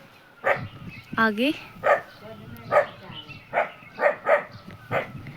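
An aunt's dog barks repeatedly at a village home, a string of sharp, close barks with a yelp, interleaved with people talking nearby.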